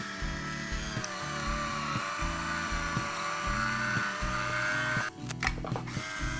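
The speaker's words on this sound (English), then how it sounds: "we're gonna open up this bottle with the Cuisinart EvolutionX Cordless Bottle Opener" A Cuisinart EvolutionX cordless electric bottle opener whirs in short motor bursts as it twists a cork from a bottle of white wine, close and fairly quiet, ending with a brief rustle.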